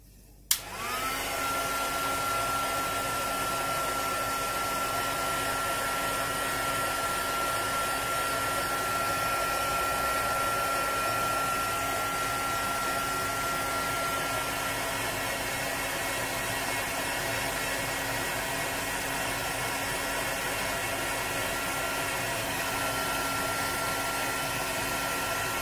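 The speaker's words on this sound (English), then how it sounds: "I'm going to be wafting my heat tool to try and heat it evenly" A heat gun blows steadily on shrink plastic being heated for foiling, a continuous loud airy roar with a faint whine that starts abruptly and holds unbroken to the end, with no talking.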